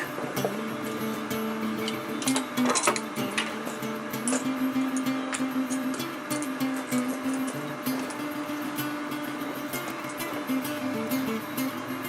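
Stitching on a rollup backpack runs as a quiet, steady mechanical hum from a sewing machine, with light ticking and clicking over a low whir.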